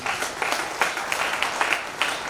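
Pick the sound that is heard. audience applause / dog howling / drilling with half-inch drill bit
audience applause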